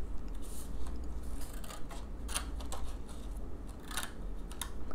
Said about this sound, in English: you're cutting off the ends of your paper